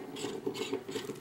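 A 10 mm Allen wrench screws a part into a bicycle freehub, giving a close, quiet run of rapid ratcheting clicks and gritty metal rubbing with a faint rhythmic pulse.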